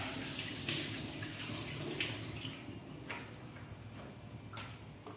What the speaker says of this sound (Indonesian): kita cuci dulu guys kentang sama wortelnya tadi ya